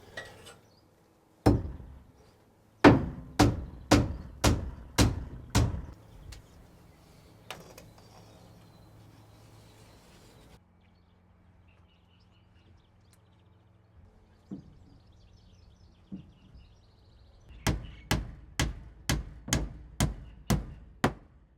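Hammer knocking nails into wood for an off-grid bathroom build, sharp loud strikes in quick rhythmic bursts of five or six, with a quieter stretch between the groups and faint background clatter.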